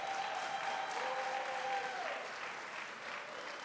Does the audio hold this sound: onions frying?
no